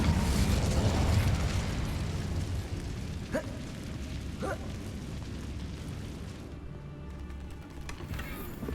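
The Incendio fire spell is cast in the video game Hogwarts Legacy: a loud, dense fiery blast with crackling pops that slowly fades, heard alone without talk.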